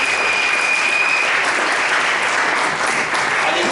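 A church congregation claps during a worship service, producing dense, sustained applause that fills the room at an even level for a few seconds, with a thin whistle-like tone briefly above it at the start.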